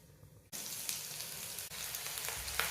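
Sliced cashews and onions hit hot oil for quinoa upma, and a bright, loud sizzle starts abruptly and holds steady close by, with a brief dip partway through.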